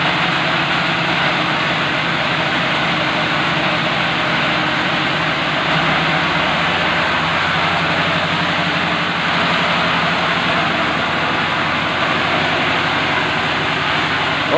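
A granulator machine processes organic fertilizer made from palm oil waste, producing a loud, steady mechanical roar and hum that runs unbroken throughout, close by and with no talking.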